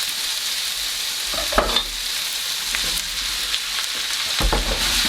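Three cloves of garlic frying in a hot pan with carrots and celery for a lentil and vegetable stew, a steady close sizzle broken by a few stirring scrapes.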